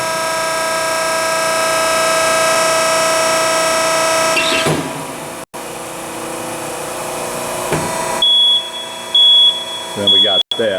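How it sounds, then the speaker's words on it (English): An Extrude Hone abrasive flow machine hums with a steady mechanical drone, then its cycle complete alarm sounds as loud, intermittent high-pitched electronic beeps near the end, amid shop noise. "it kicks on the cycle complete alarm"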